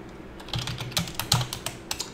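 A command is typed on a computer keyboard, with a quick run of crisp, close key clicks in an irregular rhythm and no talking.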